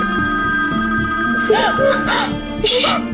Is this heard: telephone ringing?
yes